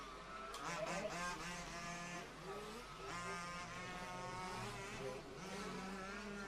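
Large-scale off-road RC race cars at a European championship qualifying session, their small engines whining steadily at high revs, several machines overlapping in a continuous buzzing drone heard from a moderate distance.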